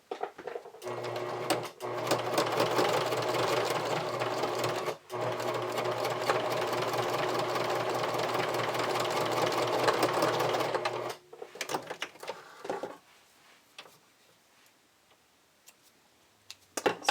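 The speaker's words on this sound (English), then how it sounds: "using just a narrow stitch, I'm going to stitch this together" A sewing machine runs a steady narrow stitch joining strap elastic for a bra extender, a close, continuous whirring drone for about eleven seconds that stops abruptly, followed by a few light clicks and handling sounds.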